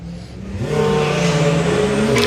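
Drag racing doorslammer cars, a Lamborghini against Tom Herbert, launch with a loud rising engine roar that climbs in pitch as they accelerate, heard from trackside for a couple of seconds.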